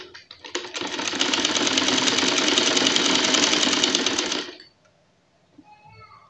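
A sewing machine stitches lace onto a chicken trouser in one steady, fast, close run of about four seconds, then stops, followed by faint handling noises.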